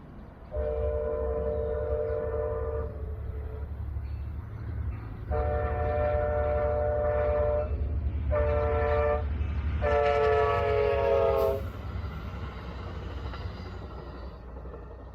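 A westbound Amtrak Capitol Corridor passenger train crosses the Yolo Bypass, its engine rumbling steadily beneath four horn blasts: two long, one short, one long. The train is heard outdoors at moderate distance with no talk.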